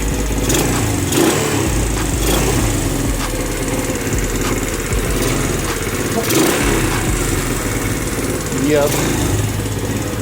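A free Chinese 110 quad bike's small engine runs loud and close with a rough, buzzing drone that surges and dips throughout, while someone speaks briefly over it.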